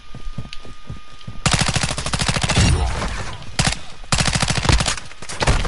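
Rapid automatic gunfire from a Call of Duty match, loud bursts of fast rattling shots with short pauses between them, with faint voices in the background.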